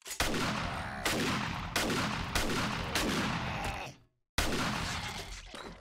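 Repeated loud gunshots from a firearm in the zombie survival game 7 Days to Die, fired at a zombie in about five heavy bursts with echoing decay, a brief silence, then one more blast.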